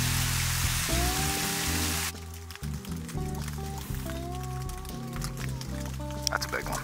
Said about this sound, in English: This hail is huge, and it does not look like it's stopping anytime soon.